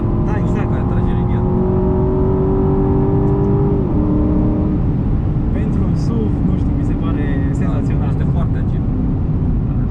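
An Aston Martin DBX 707 V8 with 550 hp accelerates on a test drive, a loud steady engine drone whose pitch climbs and then drops at a gear change, heard from inside the cabin while people talk.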